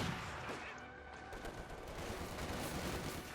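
Gunfire from the strategy game Company of Heroes 2, with Soviet Guardsmen and DP light machine guns firing on German Grenadiers, a faint, dense crackle of overlapping shots heard at a distance.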